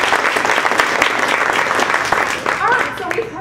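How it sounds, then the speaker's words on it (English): Audience at a Toastmasters meeting gives sustained, dense applause, loud and steady throughout, with a few voices and whoops rising near the end. "Give them a round of applause."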